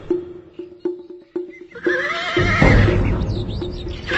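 A horse that a rider has just dismounted from clip-clops with steady hoof steps, then lets out a loud, drawn-out neigh that rises and wavers before fading.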